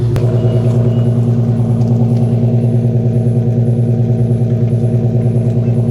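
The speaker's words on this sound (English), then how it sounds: "Let's go back to the exhaust so y'all can hear it a little bit." An Infiniti Q50 exhaust idles up close with a steady, deep, even rumble and a fine pulsing throb that holds level throughout, with no talking.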